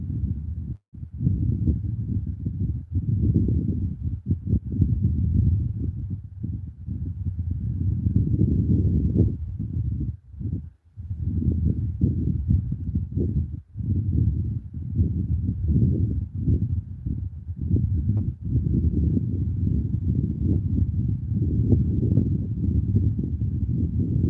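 Strong wind gusts buffet the microphone at a lakeside campground, a loud continuous low rumble that swells and drops with brief lulls, heard alone without talk.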